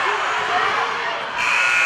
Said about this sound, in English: And Palazzo beats the buzzer.